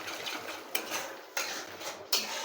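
Metal spoon scraping and clinking in a pan while potol dorma curry is stirred with whipped sour yogurt and a spoon of sugar, a steady soft scrape with three sharper knocks against the pan's side, alone.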